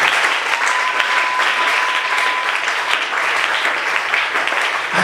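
A church congregation applauds the Lord during a Thursday worship service, steady dense clapping filling the room for the whole stretch, loud and continuous with a brief sustained tone riding over it early on.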